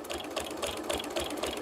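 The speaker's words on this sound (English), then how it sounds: "I'm just going to go ahead and stitch to the end." A sewing machine stitching a fabric bowl cozy runs in a quick, even, rhythmic whir of needle strokes, fairly quiet and close, alone without voices.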